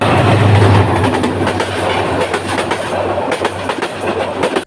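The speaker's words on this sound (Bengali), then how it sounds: "আর এর মধ্যে চলে আসে আমাদের ট্রেন" A train pulls into Comilla railway station, loud and close. A heavy steady rumble runs under a rhythmic clickety-clack of wheels over the rail joints, with no voices.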